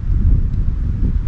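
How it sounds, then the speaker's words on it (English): Gusty early-spring wind at a cold-water lake buffets the microphone in a continuous low roar, rising and falling slightly over a brief stretch. "A windy day."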